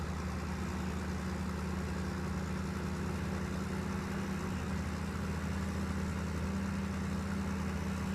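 A tractor engine in Farming Simulator 2015 runs at a steady idle, a constant low droning hum throughout with no one speaking.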